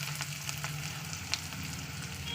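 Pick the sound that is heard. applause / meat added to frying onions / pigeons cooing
meat added to frying onions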